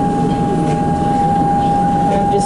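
Melbourne Skyrail train running on the elevated line, a loud, steady rumble with a sustained mechanical whine throughout, heard close by.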